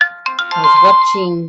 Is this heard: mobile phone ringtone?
yes